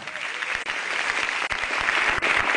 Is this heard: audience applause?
yes